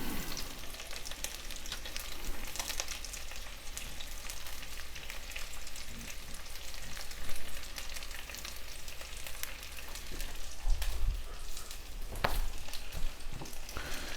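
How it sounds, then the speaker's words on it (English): Potatoes fry in a pan as they are stirred, a steady, close sizzle with soft scraping of the utensil running throughout, and no voices. "Give it a good stir."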